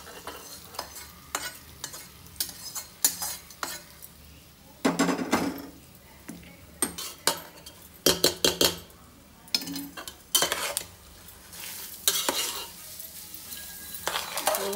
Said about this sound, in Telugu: బాగా కలిపిన తర్వాత అప్పుడు పోపేసుకోవాలి.